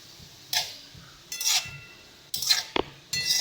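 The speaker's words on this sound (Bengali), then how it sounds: "লবণ দিয়ে এবার ভালো করে এটাকে মিশিয়ে নেব।" A spoon scrapes and clinks in a kadai in four short bursts with quiet gaps between them, mixing pineapple pieces with salt for pineapple chutney.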